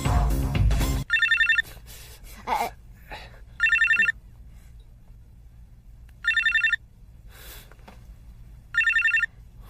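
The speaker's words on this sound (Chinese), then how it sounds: "如果是他来的电话，不许理他" A telephone rings in four short, evenly spaced bursts of electronic trilling with quiet gaps between them, following a brief noisy moment at the start.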